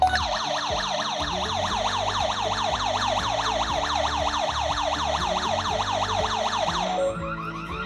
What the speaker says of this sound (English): it will sound the alarm as it is quite sensitive